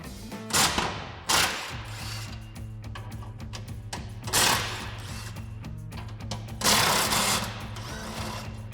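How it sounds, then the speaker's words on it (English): A 13 mm socket on a ratchet or driver removes bolts from a Ford Bronco front bumper bracket, producing close mechanical whirring in several separate bursts with short pauses between, no voices. "So now we can take our 13mm socket to get these 4 bolts out."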